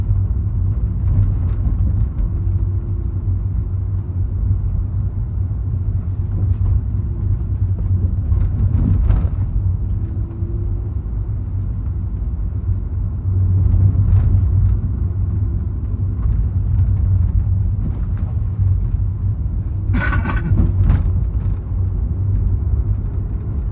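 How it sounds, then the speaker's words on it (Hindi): Interior road noise from a 2017 Volkswagen Polo GT petrol automatic on the move, with a steady low rumble of engine and tyres throughout and a few brief louder swells and knocks. "कार है 2017 की वोक्सवैगन पोलो GT ऑटोमेटिक"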